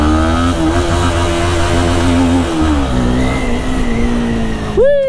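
Sport bike ridden on the road, its engine droning and rising through gears in steady pitch sweeps, loud and close with wind noise, ending in a sharp rising rev.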